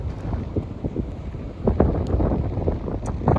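Strong wind on Old Harry Beach in the Magdalen Islands, blustery gusts buffeting the microphone with low rumbling bursts, close and loud, swelling stronger toward the end.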